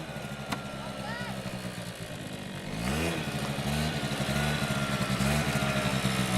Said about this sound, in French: Maintenant on a les scooters, c'est rapide.